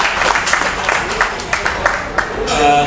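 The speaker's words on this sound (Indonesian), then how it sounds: "Tepuk tangan untuk kita semua." An audience at a coffee festival applauds, with scattered claps rising into fuller clapping at the end and a voice heard during it.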